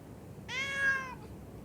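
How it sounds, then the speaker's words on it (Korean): A stray cat in a darkened alley gives one clear, drawn-out meow lasting under a second, moderately close, against quiet background hum. "골목에 어둠이 깔리면 어디선가 고양이들이 나타나기 시작합니다"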